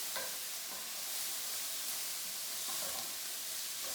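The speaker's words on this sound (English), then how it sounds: "give these onions a little stir" Onions sizzle softly in a hot pan while being stirred, a steady frying hiss with small scraping stir sounds and no voices.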